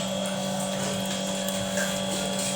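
Raw chicken is washed under continuously running water, a steady close splashing wash over a low, constant hum.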